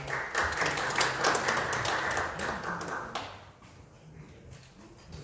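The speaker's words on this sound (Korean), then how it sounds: "큰 박수로 맞아주시기 바랍니다." An audience at a Korean construction policy forum claps to welcome a presenter. The dense, fairly even applause lasts about three seconds, then fades to quiet room tone.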